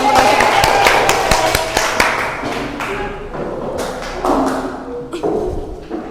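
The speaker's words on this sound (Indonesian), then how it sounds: "Oke, udah, tepuk tangan." A group in a classroom claps hands together after an ice-breaking game, a burst of scattered, uneven claps close by with voices mixed in.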